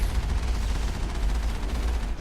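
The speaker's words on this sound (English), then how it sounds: "There's explosions and shitload of bullets." Dense, continuous barrage of rapid gunfire with heavy booming explosions in the video game Mass Effect, loud and unbroken for the whole stretch, like a chaotic firefight.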